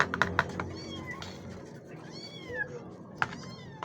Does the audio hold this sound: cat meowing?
yes